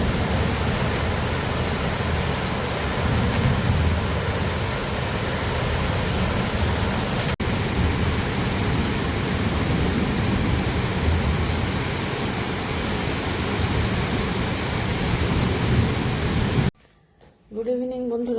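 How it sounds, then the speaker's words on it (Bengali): Heavy evening rain pours during a hailstorm as a dense, steady hiss that stays unbroken for most of the stretch, then cuts to near quiet near the end. "এই যে শুরু হয়ে গেল এখন, কন্টিনিউয়াসলি বৃষ্টি।"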